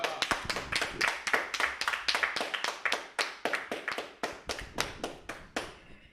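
A congregation claps hands together during a worship service, producing a steady, rhythmic beat of sharp, fairly close claps that continues evenly without speech over it.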